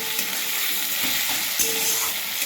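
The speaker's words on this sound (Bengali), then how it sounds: "তো এই আলুটাকে একটু ভেজে নেব, ভেজে আলুটাকে তুলে নেব।" Potatoes, lightly salted and dusted with turmeric, frying in oil in a home kitchen, a steady close sizzle with a couple of soft clinks from stirring.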